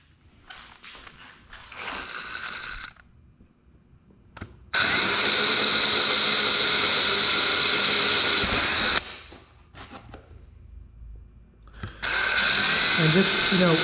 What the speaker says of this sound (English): now we drill.